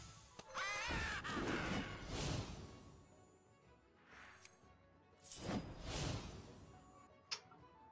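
Bird minion in the card game Hearthstone Battlegrounds letting out a shrill cawing squawk, layered with game chimes and whooshes, fairly loud in a busy stretch of game effects with a short tick at the end.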